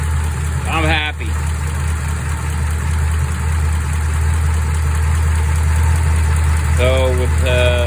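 A flathead-powered coupe idles steadily on Henkyo replica Holley 94 carburetors, a constant low engine rumble filling the scene, with a few brief higher chirps near the start and end and a person talking over it.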